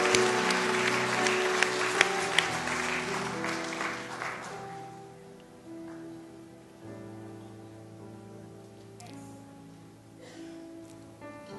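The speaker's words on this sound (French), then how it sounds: "On applaudit le Seigneur" A church congregation applauds during a service, the clapping strongest at the start and then thinning out and fading as sustained organ or keyboard tones carry on beneath it.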